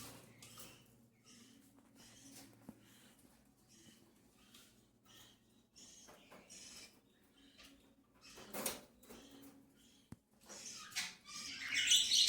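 Small birds chirp and tweet in short, scattered calls inside a coop, with occasional rustling and faint mechanical knocks under a low background hum, growing busier toward the end.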